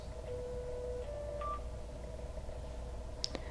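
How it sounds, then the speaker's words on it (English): Steady electronic keypad tones from a Motorola Renegade V950 mobile phone on a long button press, a held beep stretching longer before shifting pitch, followed by a brief higher chirp near the end over a low background hum. "If you hold one of the keypad buttons for a long time, the audio will be longer"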